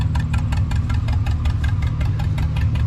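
A John Deere tractor engine idles at a threshing show, putting out a steady run of regular low, chugging pulses up close, loud and even, with no voices.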